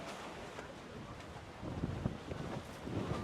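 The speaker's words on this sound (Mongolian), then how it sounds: "Оо ямар амар салхилж байна." Steady wind blows outdoors in a cherry-picking orchard, a continuous broadband rush buffeting the microphone and swelling in gusts, with no clear voices.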